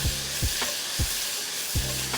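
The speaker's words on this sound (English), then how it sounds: "the shrimp's cooking beautifully" Shrimp sizzling in a hot skillet, a constant close fry broken by four rhythmic thumps as the pan is tossed, with no talk.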